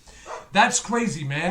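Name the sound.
dogs barking in the background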